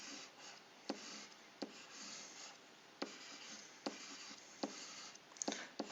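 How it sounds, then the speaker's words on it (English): Marker or pen drawing algebra tiles by hand on a surface, a quiet continuous scratchy rubbing broken by sharp taps as each stroke starts, close and faint with no talk. "So the first thing we're going to do is we're going to draw our tiles."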